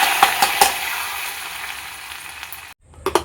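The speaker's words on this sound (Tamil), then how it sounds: "இப்போ வத்தல் சேர்த்து நல்லா பொரியட்டும்" Dried chillies and curry leaves frying in hot oil for a tempering, giving a close, steady sizzle with a few sharp pops early on and a brief drop near the end.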